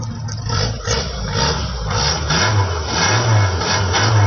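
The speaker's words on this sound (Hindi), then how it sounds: "देखें, गाड़ी स्टार्ट है, पीछे जाए आप, मैं रेस देता हूँ, गाड़ी को चेक करें" A 1998 Suzuki Margalla car engine revs up close, a steady broadband rumble that swells and eases as the throttle is blipped, with no voices over it.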